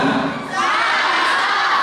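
Junior high school students at an orientation session shout together at full volume, a dense, sustained roar of many young voices that swells after a brief dip and holds loud to the end.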